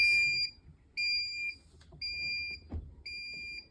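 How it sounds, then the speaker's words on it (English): A portable heat press gives four loud, evenly spaced electronic beeps, each held briefly, with a soft knock between them. "so it beeps"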